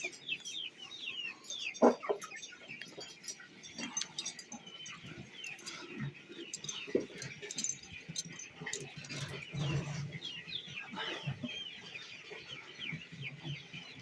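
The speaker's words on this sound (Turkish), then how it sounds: "civcivler var. Bunlar da görün, görün bayağı büyüdüler." Growing chicks being moved to a farm coop cheep and cluck in short scattered bursts, faint and close, with rustling in between and no voices.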